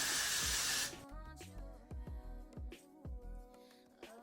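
A short, loud hiss of Got To Be freeze hairspray sprayed onto a wig cap bursts for about a second, followed by quieter handling knocks and rustles.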